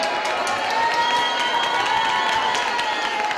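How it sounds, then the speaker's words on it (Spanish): An audience at a pensioners' club carnival and awards gathering claps and cheers for a costume, a dense, loud, steady burst of applause with scattered shouts, heard without speech. "Un aplauso por ese disfraz tan original."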